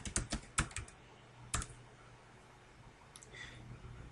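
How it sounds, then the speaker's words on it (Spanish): Someone types a shutdown command for a Linux server on a computer keyboard: a few close, quick bursts of clicking keys, then a pause and a couple of lighter taps near the end. "Y para apagarla escribimos shutdown -h de halt o detener y 0 para que espere 0 segundos"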